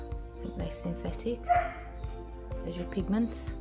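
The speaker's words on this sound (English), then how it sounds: "Excuse my dog whining." A dog whines and whimpers in high, thin bursts in the background while a person talks steadily nearby.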